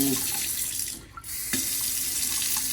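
A Kohler kitchen faucet runs hot and cold water steadily into a sink, loud and close, with a brief dip in the flow partway through.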